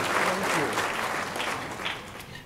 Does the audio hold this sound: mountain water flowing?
no